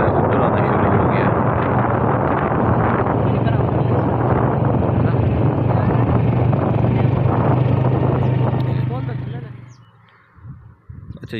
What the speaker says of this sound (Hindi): हवा चलना शुरू हो गई है और पानी ऊपर आना शुरू हो गया है।